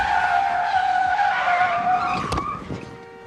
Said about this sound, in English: what the hell you stopping the car here for